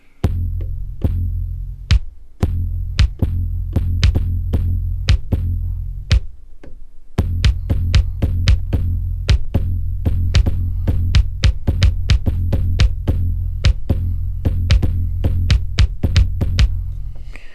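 A Behringer LMDrum plays a pitched-down drum sample in a repeating pattern, with deep, punchy thumps and sharp, clicky hits in a steady rhythm, loud and close, pausing briefly before resuming.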